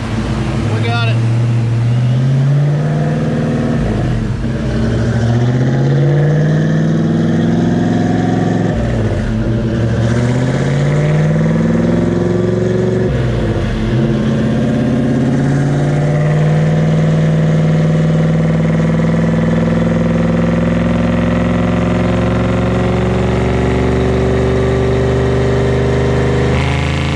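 A supercharged Fox Body Mustang on a dyno during a parasitic loss test: the engine revs up in several rising sweeps, then holds and winds steadily higher, loud and close throughout, with voices talking faintly underneath.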